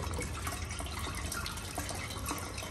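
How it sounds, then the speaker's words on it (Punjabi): Water pours out of a pipe fed by a motor pump, a constant even hiss of flowing water, close and uniform throughout with no pauses and no voices. "ਇਹ ਪਾਣੀ ਤਾਂ ਬਾਹਰ ਤਾਂ ਆਉਣ ਡਿਆ"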